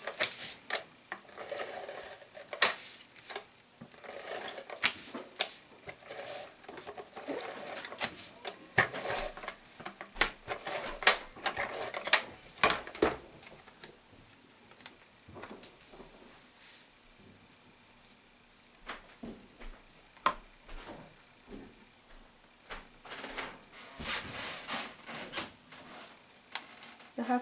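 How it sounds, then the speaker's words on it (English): Background clatter of a husband and young son going through children's toys: irregular plastic clacks, rattles and rummaging knocks at moderate distance, scattered through the stretch with quieter gaps, no clear talk. "my husband and my son are going through his toys"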